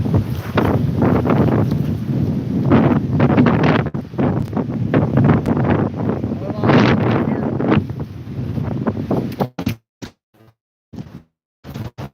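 Strong wind buffeting the microphone outdoors while fishing, a loud continuous roar with gusty surges that drops away into brief bursts near the end, with some voice mixed in.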